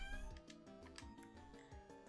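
A house cat meows near the microphone, faint and slightly muffled, behind a louder bed of music.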